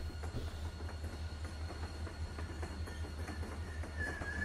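A train rolling along in The Walking Dead: Season 1 video game, a steady low rumble with a faint, regular clickety-clack of wheels running continuously throughout.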